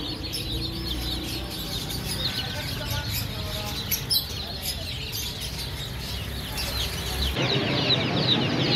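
Desi Misri chickens cluck and chirp steadily in the background, with newly hatched chicks peeping, amid general bird market noise in Lahore.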